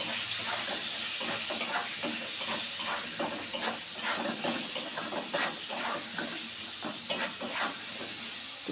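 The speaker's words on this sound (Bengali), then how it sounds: "এবারে এটা সুন্দর করে ভাজবো" Potatoes and onions fry in a pan with a steady, moderate sizzle broken by repeated scraping stirs from a spatula, a rhythmic clatter that carries on throughout.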